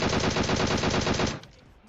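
Automatic gunfire in the mobile battle royale game PUBG Mobile: a rapid, loud burst of evenly spaced shots lasting over a second, then stopping sharply into near quiet.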